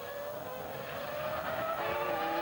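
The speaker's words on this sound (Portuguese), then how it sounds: "E o Schumacher continua acelerando uma barbaridade" A Formula 1 car accelerates at the San Marino Grand Prix, a loud, sustained high-pitched engine whine rising steadily in pitch and volume, with no voices.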